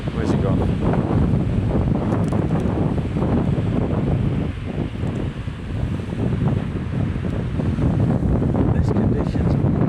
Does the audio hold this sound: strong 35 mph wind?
yes